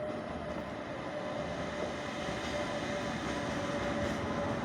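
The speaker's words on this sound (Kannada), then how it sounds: "ಈಗ ಟ್ರೈನ್ ಬರ್ತದೆ, ನಾವು ಮಾತಾಡೋದು ಕೇಳುದಿಲ್ಲ" A goods train passing very close, a loud continuous rumble of rolling wagons with a faint steady squeal, sustained for the whole stretch.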